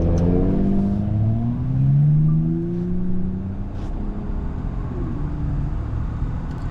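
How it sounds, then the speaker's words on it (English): A Ford F-150 Raptor driving off-road, its engine rumbling loudly and steadily, rising in pitch under throttle, then easing to a lower, rougher drone as the truck works over uneven ground. "Notice as the Raptor goes through this section"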